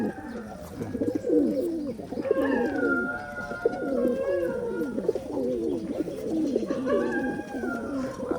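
Old-breed Khulna high-flying pigeons coo in a continuous, close, rolling chorus of overlapping throaty calls, with a few higher chirps rising now and then.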